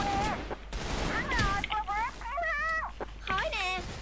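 Rapid bursts of gunfire from a shooting video game crackle beneath near-constant excited talking by a player.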